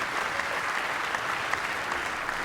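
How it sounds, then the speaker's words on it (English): Dense, steady applause fills an awards-ceremony hall at a video game industry awards show, loud and continuous with no talk over it. "Another round of applause, please, for the winners and those nominated."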